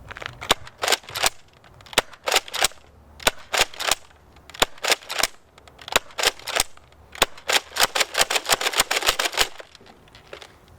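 A Nerf Modulus Tri-Strike blaster shoots darts with sharp, snappy pops, fired singly and in quick clusters, loud and near against a quiet background.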